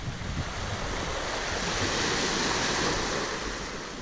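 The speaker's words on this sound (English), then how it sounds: "I think the sea's coming in." Steady broadband wash of surf rolling onto a shore, continuous and fairly loud, with some wind rumble and no voices.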